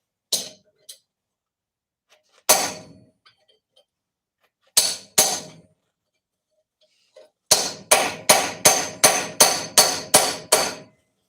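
A homemade chisel is hammered into 3/16 inch steel plate with sharp metallic blows. A few single strikes are spaced apart, then a rapid run of about eight hits follows, loud and near.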